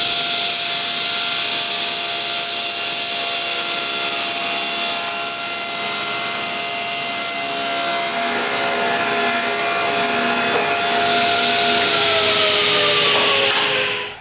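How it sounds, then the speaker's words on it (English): Wood being ripped to width on a saw for a doweling jig, a loud continuous whine with steady high-pitched tones that drops in pitch toward the end as the blade slows, with no talking. "So I rip both pieces to the right width."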